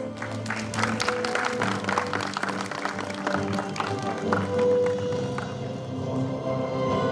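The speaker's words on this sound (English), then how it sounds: "A huge round of applause for Sir, please." An audience claps at the 7th National Conference of the Indian Society of Radiographers and Technologists, a steady, dense patter of many hands filling the hall for several seconds without a break.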